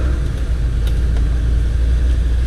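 A Range Rover driving on an off-road course at the Billing Off Road Show, with a loud, close, low engine rumble and road noise holding steady, plus a couple of faint knocks and no speech.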